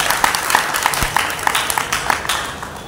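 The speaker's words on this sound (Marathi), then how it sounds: "त्यामुळे दोन्ही साधन करता जोरदार एकदा टाळ्या वाजवा" Audience applause during a kirtan performance, a crowd clapping steadily at moderate volume with a few distinct individual claps and a dull thump, then fading slightly toward the end.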